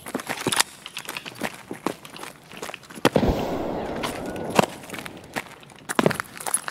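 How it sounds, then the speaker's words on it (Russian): A grenade blast in Escape From Tarkov, one loud close burst with a rushing tail amid repeated gunshot-like cracks and scuffling footsteps. "Кидаю еще граната"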